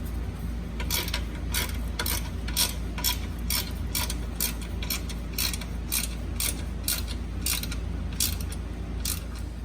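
A nut on a Fiat 500 torque arm insert is tightened with a 13 millimeter wrench, giving a steady run of quick, evenly spaced ratcheting clicks close up over a constant mechanical background.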